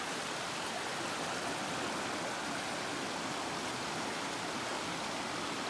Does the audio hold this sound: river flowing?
yes